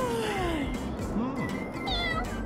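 A cat meows in several drawn-out, rising and falling cries from inside a pet carrier, heard over a constant loud engine-like drone.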